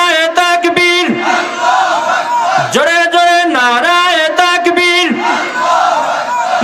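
A large crowd at a Bangladeshi Islamic religious rally loudly chants a slogan in unison in answer to a leader's call, with repeated surging shouts over a steady rumble of many voices.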